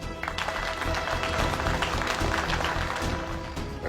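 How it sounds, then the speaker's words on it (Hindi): A burst of clapping from a small group, brisk and moderately loud, continuing for a few seconds. "एक बार तालियां हो जाए भाई, जल्दी से"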